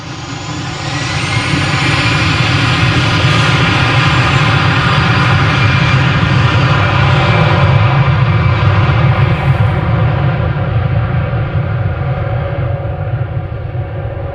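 A 17-year-old Aer Lingus Airbus A320 jet departs runway 36L at Amsterdam Schiphol, a loud, steady engine roar that builds and holds for the whole stretch, broad and sustained with no voices.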